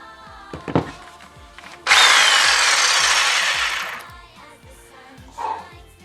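A power tool drills into a wooden guitar headstock to make holes for the tuners, a loud whining burst lasting about two seconds, framed by a few quieter knocks and handling sounds before and after.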